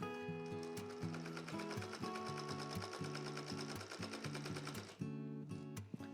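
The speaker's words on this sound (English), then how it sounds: "So we're going to sew this side on, and then I'm going to do the same thing on the other side." A sewing machine stitches quilt fabric for improv flying geese blocks in a fast, steady run of close-up stitching, with a brief hitch near the end.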